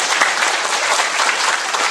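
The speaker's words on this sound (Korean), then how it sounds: "박수가 좀 적네요." An audience at a Korean education talk concert for a candidate claps in a short, even burst of scattered applause, fairly close and continuous with no speech over it.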